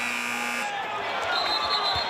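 Shot clock buzzer at a Big 12 college men's basketball game, Kansas versus Kansas State, a loud sustained electronic tone under the roar of a crowd in a large arena.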